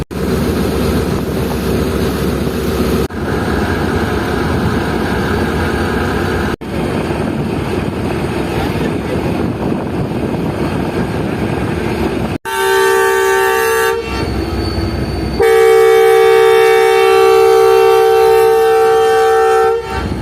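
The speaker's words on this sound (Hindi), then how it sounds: "फाइनली 10 मिनट रुकने के बाद 8 डाउन तेजगाम एक्सप्रेस निकलना शुरू हो चुकी है।" Pakistani 8 Down Tezgam Express pulling out of a station near Bin Qasim after a ten-minute stop, with a steady rolling rumble that later gives way to loud, sustained horn blasts close by. No talking.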